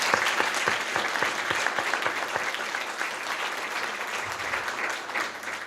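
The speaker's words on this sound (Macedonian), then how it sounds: "сакам да го поздравиме со еден голем аплауз" Audience applause fills a university honorary doctorate ceremony, a dense, steady clapping from a large crowd that holds throughout without any talk over it.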